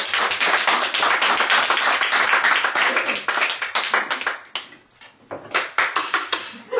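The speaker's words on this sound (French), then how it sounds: "Cela mérite applaudissements." Dense, loud applause from a crowd during a courtroom-style session, steady for several seconds, thinning out and dipping into scattered claps before swelling back to full clapping at the end.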